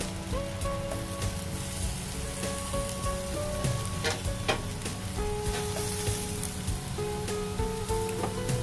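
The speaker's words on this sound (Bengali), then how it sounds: "দিয়ে একটু ভালো করে আমি নাড়াচাড়া করে নেব।" Onion kachori filling with coriander leaves being stirred in a frying pan, a steady close sizzle with scraping stirs and scattered spattering throughout.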